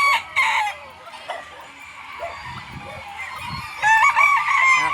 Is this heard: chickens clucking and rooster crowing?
yes